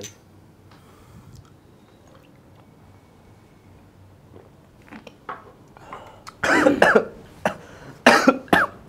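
Quiet room at first, then a burst of loud, harsh coughing, several coughs close together, followed by another fit of coughs near the end.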